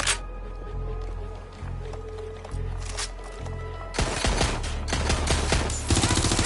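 Gunfire in the video game Watch Dogs Legion: rapid bursts of shots over a thumping game soundtrack, growing denser and louder toward the end.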